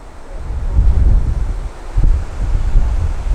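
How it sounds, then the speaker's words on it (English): Strong wind buffets the microphone at an Oak Tree barbel fishery, roaring in loud, uneven gusts with no other sounds. "the wind is just proving so strong that we're just getting mithered by it"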